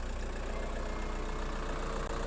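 An R53 Mini Cooper S engine running on a jump start with a flat battery, a steady, loud idle drone throughout with no talk.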